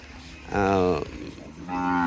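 A Gir heifer lets out two loud, drawn-out moos close by, the first long and the second rising after a short pause, over quiet farmyard background.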